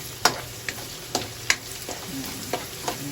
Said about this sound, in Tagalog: ayan na po yung sibuyas tsaka bawang. Ginisa ko na.